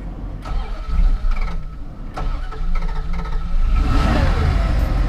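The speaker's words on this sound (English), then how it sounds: "She's a little rough starting, but she runs." An old Dodge engine is cranked with a key, turning over roughly in a few uneven bursts before catching and settling into a running idle, heard close and alone.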